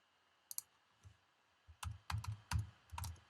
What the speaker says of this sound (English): I'm gonna type the word